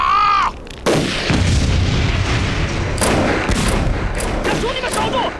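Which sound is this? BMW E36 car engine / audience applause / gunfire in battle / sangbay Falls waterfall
gunfire in battle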